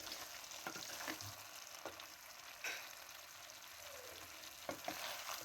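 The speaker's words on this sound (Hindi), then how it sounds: "अब मैं हल्की आंच पे इसको पका रही हूँ स्टीम के अंदर, और स्टीम के अंदर ये भून रही है।" Aloo methi sabzi, potatoes and fenugreek leaves, frying and steaming over low heat in a covered pan, giving a soft steady sizzle with occasional light knocks of stirring.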